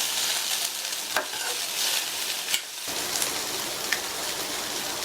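Beans poriyal with chopped coriander leaves tossed in a hot pan, continuous crackling sizzle with a few scraping stirs, near and steady.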